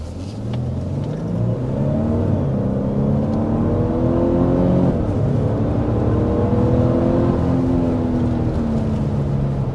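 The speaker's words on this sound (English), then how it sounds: "there's a 0 to 60 from a stop" A 2025 Lexus LX 700h hybrid luxury SUV accelerates hard from a standstill, engine and drivetrain rising steadily in pitch through the gears in a loud, sustained whirring drone heard from inside the cabin.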